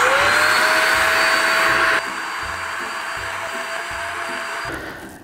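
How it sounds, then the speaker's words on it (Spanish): A vacuum cleaner whines loudly while dusting a taxidermy animal, its pitch shifting as the nozzle moves, then drops to a lower drone with soft bumps before cutting off. "con una aspiradora, lo primero es aspirar el polvo del animal."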